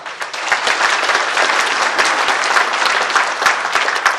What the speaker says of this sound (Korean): 선의의 경쟁을 함께한 새 후보님께도 다시 한번 격려의 박수를 보냅니다